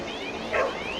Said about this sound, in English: There's a dog barking here.